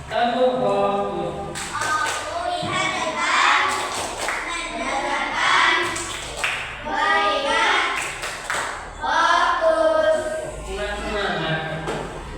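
A group of children in a classroom performs a clap routine, clapping together in short rhythmic bursts mixed with their loud chanting voices.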